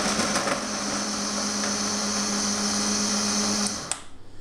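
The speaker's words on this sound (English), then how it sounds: "Now to blitz around half a loaf of bread in the blender." A blender blitzes half a loaf of bread into crumbs for stuffing and bread sauce, a loud, steady whirring grind close by that runs for several seconds before stopping abruptly.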